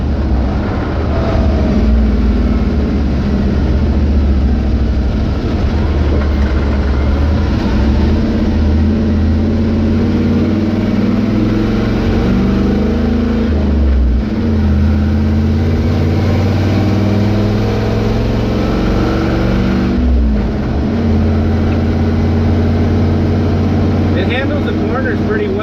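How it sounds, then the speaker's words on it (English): Carbureted LS 5.3 V8 swapped into a Dodge W100 truck, engine braking while towing: a steady low engine drone that dips and shifts as it slows into corners, continuous and loud, with someone talking over it. "Engine braking seems to work pretty good."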